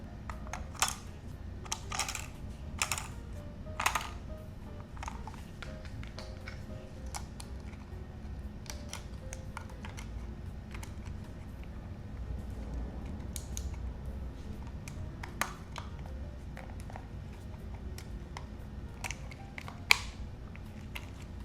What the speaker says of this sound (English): So now let's put some batteries in it and an SD card.